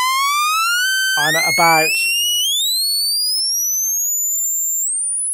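A Studio Electronics Boomstar synthesizer plays a bright, buzzy sawtooth oscillator tone that sweeps steadily upward in pitch, growing thin and shrill, with someone briefly talking over it.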